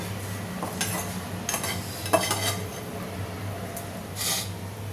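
Boiled egg, chopped onion and chilli being mixed for a soya chunk and dal salad, a series of spoon scrapes and soft clinks against a bowl at an irregular pace, close by, with no talk.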